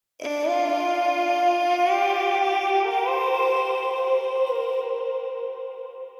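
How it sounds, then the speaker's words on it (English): Sustained sung notes shift in pitch, wrapped in a big, lush reverb that lets each tone ring and blur into a long, fading wash. "we want a quite large, long, lush, and wet reverb"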